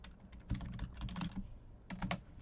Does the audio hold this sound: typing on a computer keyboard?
yes